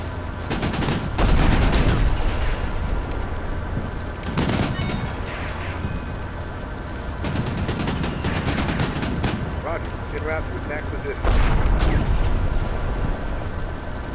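Gunfire rattles in the Combat Mission Black Sea wargame, with bursts of shots and heavier booms around the one- to two-second and eleven- to twelve-second marks over a continuous battle din, a voice talking over it.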